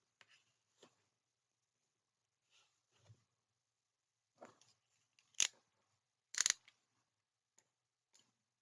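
Scissors snipping paper for a 7x9 mini album, a few scattered faint snips building to two sharper, louder cuts near the middle, with quiet gaps between and no talking.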